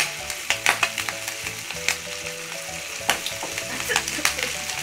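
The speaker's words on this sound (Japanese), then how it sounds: "ちゃんとニンニクを炒めて香りを出していく。" Garlic sautéing in a pan over low heat for a pasta sauce: a steady close sizzle with scattered crackles and clicky stirring, backed by soft background music and no speech.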